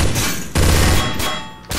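AUG rifle fire in Counter-Strike deathmatch, loud close bursts of rapid shots that stop and restart three times in under two seconds.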